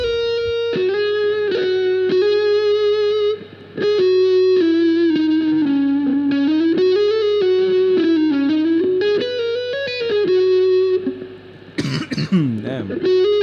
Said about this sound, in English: Good distortion.